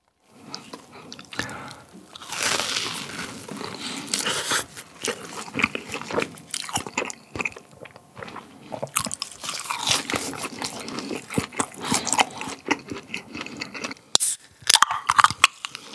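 Close, crisp crunching and chewing of Bburinkle cheese balls dipped in sauce, with bursts of biting and mouth sounds in an irregular rhythm, no talking.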